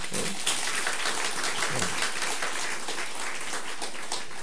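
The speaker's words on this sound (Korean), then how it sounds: "우리 오늘 하나님께 영광의 박수를 한번 올려드리겠습니다" A church congregation applauds steadily during a Sunday service, a dense wash of many hands clapping at once, sustained throughout without pause.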